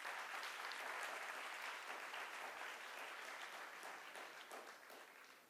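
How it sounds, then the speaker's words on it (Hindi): A crowd at a conference inaugural session claps continuously, a faint, dense patter of many hands that fades slightly toward the end, heard alone without speech. "जरा इनके नाम की भी ताली तो बजाओ यार"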